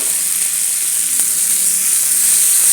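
Tomatoes sizzle as they fry in a pan for aval upma, a bright, even crackling hiss that holds steady and close throughout.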